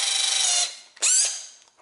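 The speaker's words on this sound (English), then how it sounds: "I'm going to do a quick demo on a 2x4 just to show you some of the driving torque that this thing's got." A Makita right angle cordless drill driving into a 2x4, a high whirring motor run that winds down, then a second short burst that fades, close and with no talking.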